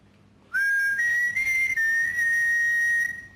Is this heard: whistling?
yes